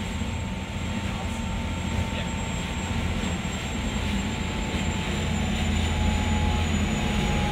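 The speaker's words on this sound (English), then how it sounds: "which will hopefully land this drone effectively without any drama" A drone flies near a 60-foot fishing vessel on the water, giving a loud, steady whir with a thin high whine that runs without a break under a constant engine-like rumble.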